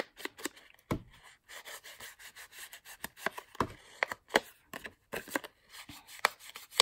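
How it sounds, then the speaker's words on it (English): Ink is dabbed and rubbed around the edges of a card already glued to paper for a collage, a close series of irregular scratchy strokes and taps with brief pauses. "I'm just going to ink around the card."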